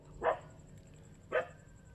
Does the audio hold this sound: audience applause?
no